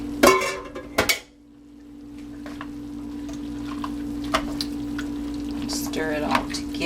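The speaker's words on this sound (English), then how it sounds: "Stir it all together" Black beans are stirred into a pot of ground turkey and Italian sausage chili. Thick, wet stirring and a few clanks of a utensil against the pot are heard, along with a steady hum and brief voice sounds.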